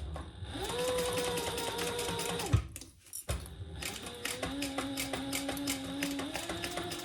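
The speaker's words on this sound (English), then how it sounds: "let's sew this together at 1/4 inch seam allowance" Sewing machine stitching a quarter-inch seam in two steady runs separated by a short pause with a clunk, a close rapid whirring patter.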